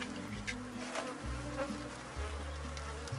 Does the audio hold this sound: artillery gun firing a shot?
no